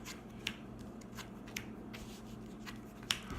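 A True Draco trading card deck being cut by hand: faint papery rustling with three light, crisp card snaps spread across a few seconds, quiet and close, with no talking.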